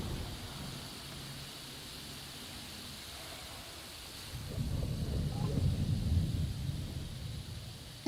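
Rain and thunder sound effect: a low, steady rain hiss builds into a deeper rumbling roll of thunder midway, swelling louder and continuing under the downpour, with no voices.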